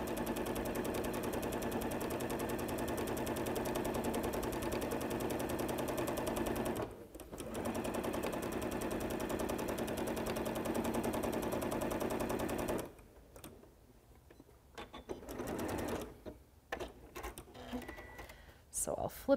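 A sewing machine runs in long continuous bursts stitching fabric, a steady mechanical whir that stops briefly around the middle, then gives way to quieter handling noises and short rustles near the end.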